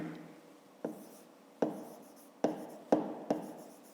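A pen writing numbers on paper during a fifth-grade math exercise, heard close up as five short, distinct scratching strokes spaced out in a quiet room.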